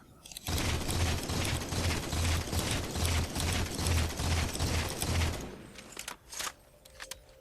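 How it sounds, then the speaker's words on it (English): A BR battle rifle in Halo 4 fired as fast as possible until the magazine runs dry, a rapid, evenly spaced string of loud shots for about five seconds, then a few faint mechanical clicks. "I'm going to start firing the BR as fast as I can until the clip runs out"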